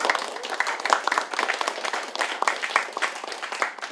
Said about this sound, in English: Cordie Williams a round of applause.